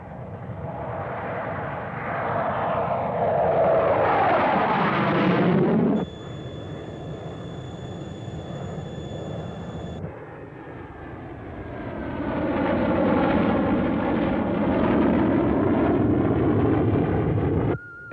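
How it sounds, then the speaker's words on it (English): An aircraft approaching an island and passing overhead: a broad engine roar swells and sweeps in pitch, drops to a steadier drone with a high whine, then builds again to a loud sustained rush, with no voices. "Aircraft approaching the island."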